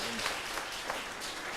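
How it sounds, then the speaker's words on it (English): Audience at a medical conference applauding the hospital team, a brief, continuous patter of many hands clapping at a moderate distance. "a big round of applause for Dr."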